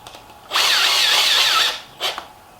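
A power drill drives bolts into an electric skateboard motor mount: one sustained whirring run of about a second, then a brief second burst, up close in a quiet room.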